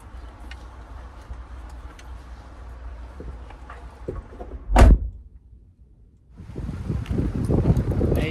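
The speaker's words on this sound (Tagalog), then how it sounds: "medyo mahangin siya" Steady low gusting wind rumbles against the microphone at a marina in Saipan, broken by a sharp thud and a brief lull before the blustery roar picks up again.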